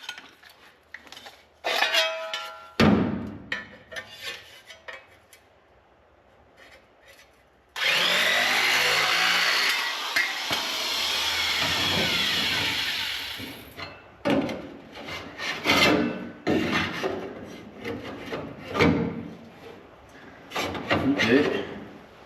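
A power cutting tool slices excess sheet metal from a 1970 Chevelle convertible quarter panel, a loud sustained grinding whine lasting several seconds, framed by scraping, clanks and handling noises in a workshop.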